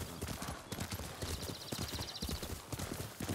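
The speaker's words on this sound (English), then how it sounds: "Riding this horse, gotta charge" Rapid rhythmic hoofbeats of a galloping horse in the video game Ghost of Tsushima, close and steady, with a short whinny partway through.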